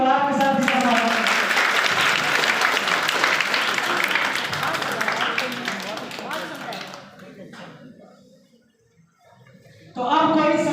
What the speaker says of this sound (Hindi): तालियों की गड़गड़ाहट के साथ इसका स्वागत है।